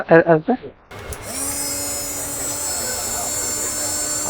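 An automatic electric fruit juicer starts up after a brief spoken phrase and then runs at high speed with a loud, steady motorized whine and hum.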